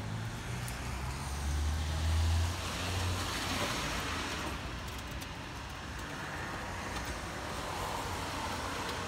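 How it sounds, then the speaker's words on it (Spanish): A car engine rumbles and strains as it drives slowly up a flooded street, with a steady wash of water and road noise throughout, no talking. "Así sube el carro, ¿eh?"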